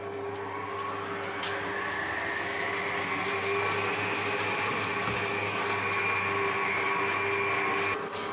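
An electric mixer whirs steadily as it beats cream cheeses with icing sugar, a continuous, fairly quiet motor drone nearby with a couple of faint clicks and no speech.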